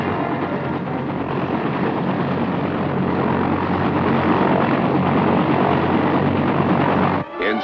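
A loud, steady roar of a US Army helicopter flying nearby, with a constant droning rotor hum that cuts off abruptly at the end.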